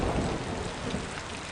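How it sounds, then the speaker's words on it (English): Steady heavy rain pours down in a storm, a dense, unbroken wash of noise with a low rumble underneath and no voices. "It poured and it lightened, it thundered, it rumbled."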